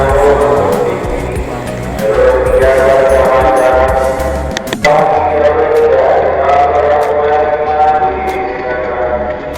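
A train at Manggarai station in Jakarta rumbles and screeches loudly nearby, with a continuous low drone under squealing metallic wheel tones and a sharp clank midway.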